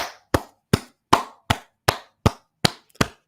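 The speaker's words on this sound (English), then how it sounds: "Why am I clapping like a lame?" Hand clapping, nine sharp, evenly spaced claps at a steady moderate pace, close and loud with silence between them.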